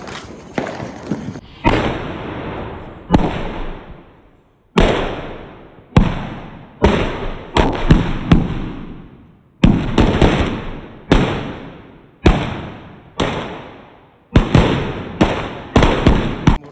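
A string of Diwali firecrackers goes off outdoors as a rapid series of loud, sharp cracking bursts, each popping cluster followed by short pauses and sputtering, repeating steadily throughout.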